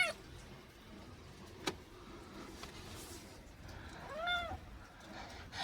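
A very small kitten playing gives a single short, thin meow partway through, faint against a quiet village background with a few soft knocks.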